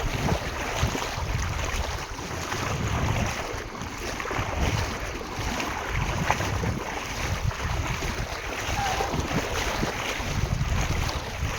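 A flooded village stream on the path to a palm oil plantation, rushing steadily with a broad, continuous roar and wind buffeting the microphone, with no voices throughout.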